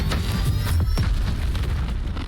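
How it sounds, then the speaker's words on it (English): A building explodes in the video game Battlefield 6 with a deep, loud boom and a rumbling low-end blast, followed by debris crackle that holds briefly before the sound cuts off abruptly. "Just seeing how the pressure wave just comes up from the building in that explosion"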